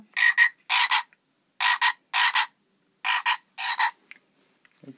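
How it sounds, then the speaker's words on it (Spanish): A children's toy frog plays a recorded croaking sound: six short, loud croaks in pairs with brief gaps between them, close and clear, ending in near silence. "La rana."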